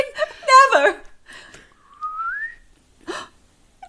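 A short rising whistle from a person, preceded by brief chuckling and followed by a quick breathy laugh, all close and fairly quiet.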